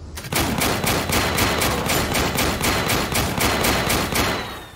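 Turret gunfire in the war game Warpips, a sustained rhythmic burst of loud repeating shots that starts abruptly and keeps hammering steadily before tapering at the end.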